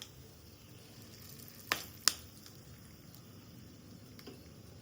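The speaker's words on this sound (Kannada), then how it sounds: "ನೀಟಾಗಿ ಲೋ ಫ್ಲೇಮಲ್ಲಿ ಇದನ್ನ ಸ್ವಲ್ಪ ಫ್ರೈ ಮಾಡ್ಕೊಳ್ಳೋಣ, ಗೋಡಂಬಿನ" Cashews with curry leaves frying gently in a pan on low flame, a faint, steady sizzle with a couple of sharp clicks from stirring.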